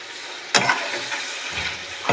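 Tomatoes go into a pan of chicken curry with chili powder and coriander powder, and the pan answers with a steady, moderate sizzle. A few sharp clatters of the pieces dropping in stand out above the frying hiss.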